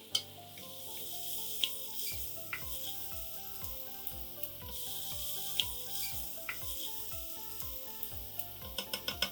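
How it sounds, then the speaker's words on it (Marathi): Finely chopped onion fries in a couple of spoons of oil, a steady close sizzle with frequent sharp clacks of a spoon stirring against the pan and no talk. "कांदा गुलाबी होईपर्यंत फ्राय करून घेऊया"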